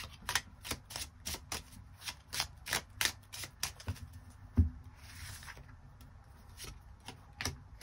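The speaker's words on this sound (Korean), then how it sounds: "추가 카드 뽑아보도록 하겠습니다" Tarot cards shuffle and get drawn in a series of sharp, papery riffles and flicks, closely spaced and crisp, with quiet gaps between bursts and no talking.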